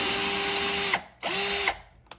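A Topshak TS-ED3 20-volt cordless drill/driver drives a screw into solid oak in two loud, close whirring bursts. Each burst ends with a falling pitch as the motor stops, and a brief click follows.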